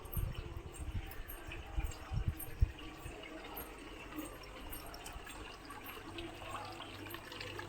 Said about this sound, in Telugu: నీళ్ళు వస్తున్నాయి